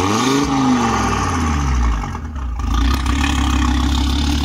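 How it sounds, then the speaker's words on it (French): Audi TT RS with a 500+ hp tune revved in its quiet exhaust mode, a loud close engine note that rises and falls in one blip of the throttle, then settles into a steady idle rumble with no talking. "Alors là on est un petit coup de gaz comme ça pour se rendre compte."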